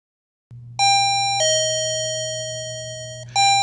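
A 433 EC alarm monitor set to its chime position sounds two loud, ringing doorbell-style tones about half a second apart, then a third begins after a long decaying pause, all over a steady low hum.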